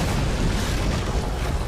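Trico, the giant creature in The Last Guardian, fires magic lightning: a loud, dense roar of crackling energy with a deep booming rumble, continuous and unbroken for under two seconds.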